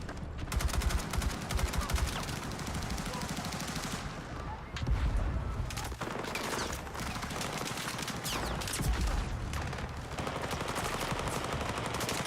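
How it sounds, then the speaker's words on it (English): Rapid automatic gunfire from an enemy in a Battlefield video game rattles in dense, continuous bursts, loud and sustained throughout with brief pauses. "Oh, he's shooting at me."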